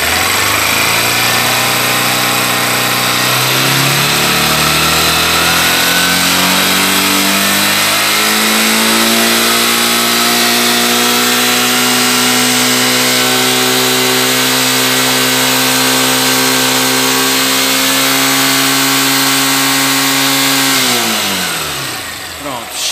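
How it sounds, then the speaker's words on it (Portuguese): A Honda NXR160 motorcycle engine is revved with the headlight on high beam, rising in pitch and holding a loud, close, steady high-rpm drone before dropping back at the end. "Agora vamos acelerar para a gente ver os parâmetros."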